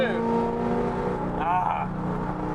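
A V6 Camaro revs on the road nearby, its engine note rising and falling in a steady drone heard from inside another moving car, with continuous road and cabin rumble underneath.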